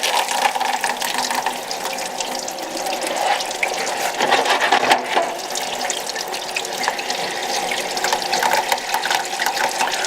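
Blackened pewter piece washed under running water: a continuous, fairly loud hiss and splash of water from a tap, steady throughout with no talk.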